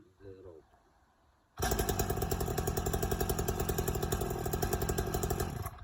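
A Stihl MS 230 C-BE chainsaw with its easy-start system catches after a soft pull on the starter rope, then runs at a loud, steady, close idle. A brief voice and a few clicks come first.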